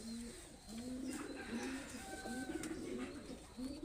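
Red-eyed Pakistani pigeons coo in repeated low, rolling phrases, close by and moderately loud, with faint rustling behind them.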